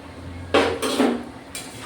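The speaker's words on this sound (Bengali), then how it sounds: "ঢাকনা খুলে নেবো।" Metal lid lifted off a cooking pot while loitta fish cooks, a couple of clanking metallic scrapes and clinks over a low background hum.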